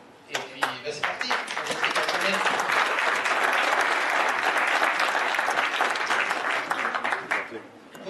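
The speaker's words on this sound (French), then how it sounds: "Premiers applaudissements de la matinée" Morning audience applause at a conference talk on algorithmic trading for individual investors, a dense burst of clapping that swells quickly, holds steady for several seconds and fades at the end, with a voice briefly over it.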